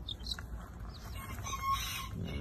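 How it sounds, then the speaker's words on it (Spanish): Chickens with young chicks on a small farm, faint scattered clucks and high peeping calls over low background noise, fairly distant and soft. "Mira los pollitos"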